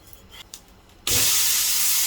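A rava (suji) uttapam topped with onion and tomato, cooked in a little oil, bursts into a loud, steady hiss on the hot pan right after being flipped, following a second of near quiet.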